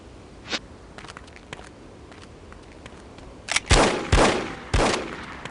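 Gunfire in a video game: a few scattered faint shots at first, then several loud, sharp bangs in quick succession near the end, close and punchy with no talking.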